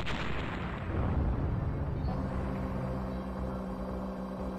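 Depth charges exploding underwater in the submarine video game Sub Culture, a heavy booming blast that rolls into a long low rumble and fades over several seconds, loud and dominant.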